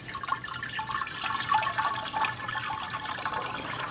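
Lemon Italian ice mix poured into an Italian ice machine, a steady liquid splashing and trickling, close and fairly soft, with no talk.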